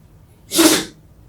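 A single short, sharp sneeze, close and fairly loud, with quiet before and after.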